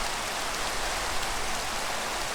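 Steady rain in Minecraft, a dense, even hiss of falling drops heard from a sheltered spot indoors, constant and moderately loud with no voices.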